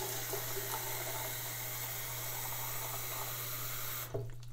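Water running from a tap into a cup for cleaning a fountain pen, a steady hissing stream with a constant hum underneath, stopping abruptly near the end with a small clunk.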